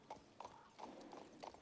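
Horse hooves clip-clopping in the video game King's Bounty 2, a faint, steady trot of soft thuds repeating about every half second.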